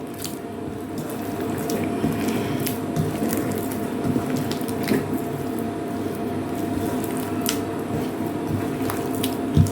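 Milk and ripe banana batter mixed by hand for an Assamese milk-banana pitha, giving a steady wet squishing and sloshing throughout, close and fairly even, with small splashy spikes and no talking.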